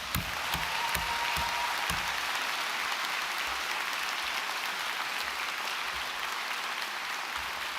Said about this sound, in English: you've given yourselves a massive round of applause, but do even better for your backroom team.